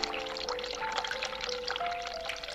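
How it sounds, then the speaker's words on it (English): Hot water running from a tap in The Cat Lady, a steady splashing pour with faint ringing tones, continuous and close throughout. "Hot water."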